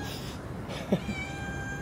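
A cat meowing while being fed, a short plaintive meow and a small follow-up sound, close by over faint room noise.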